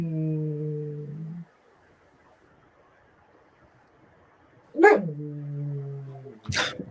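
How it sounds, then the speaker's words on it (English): Dog barking and whining, a drawn-out tonal whimper, a pause of quiet, then a sharp bark followed by another long whine and a final bark, close and clear. "Yeah, I just heard Ranger bark"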